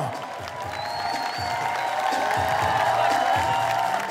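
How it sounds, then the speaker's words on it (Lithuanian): Audience applause and cheering at a live comedy tournament show, a steady wash of crowd clapping building slightly louder, with scattered whoops over it. "O dabar audringi plojimai Lady Ice iš Martyno."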